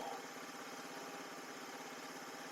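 A cheap off-road buggy's small engine, which cuts out at full throttle, idles with an even low putter that holds steady and fairly quiet from start to finish.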